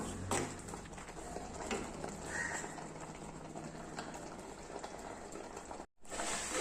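A spoon stirring cooked banana pachadi in a pot gives a steady wet, bubbling churn throughout with soft scraping, close and moderately loud, ending in a brief cut to silence.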